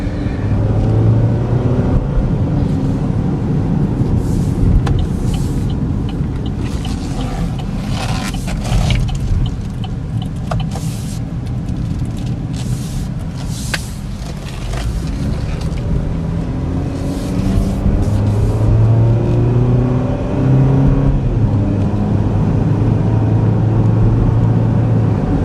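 A 2013 Chevy Equinox LT AWD, a salvage-repairable SUV, cruising on a road near 50 mph: steady loud road and engine roar with wind noise, some pitch shifts, and brief clicks and knocks throughout.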